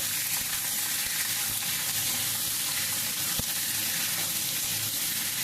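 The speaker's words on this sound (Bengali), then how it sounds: "প্রথমে তেলে চিকেনগুলোকে ভালো করে ভেজে নেব।" Chicken pieces fry in hot oil, a continuous loud, close sizzle with crackling texture and a few faint stirring knocks, no voices present.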